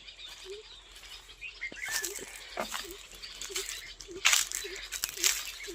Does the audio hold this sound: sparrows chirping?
yes